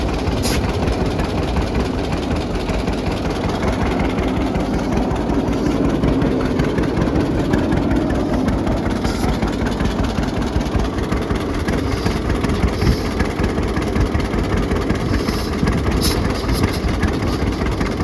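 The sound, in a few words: John Deere Model D power unit engine idling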